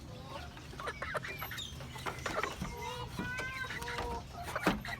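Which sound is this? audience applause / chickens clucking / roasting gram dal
chickens clucking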